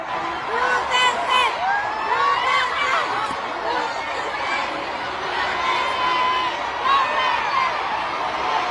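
A large outdoor crowd at a Marcos campaign rally in Iloilo roars and shouts, a dense continuous din of overlapping voices and whoops with steady chanting rising through it.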